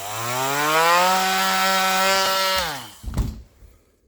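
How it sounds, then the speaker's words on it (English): A multi-tool cuts through dahlia tubers with a steady, close, high-pitched motor whine for under three seconds. The whine winds down and ends in a short crunching knock, with no talk. "I could do it with a knife, but the multi-tool works as well."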